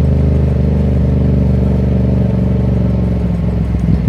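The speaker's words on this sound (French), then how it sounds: "Je sais pas si vous entendez les cliquetis du moteur." A car engine idling close by, running loud and steady with a light mechanical ticking clatter layered over its low drone.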